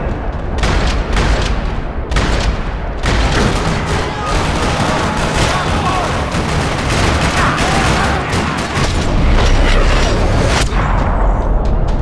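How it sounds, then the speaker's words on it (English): Gunfire rattles through a parking lot in the video game Max Payne 3, with dense, continuous bursts and booming shots sustained loudly across the whole stretch. "Another parking lot rattling with gunfire."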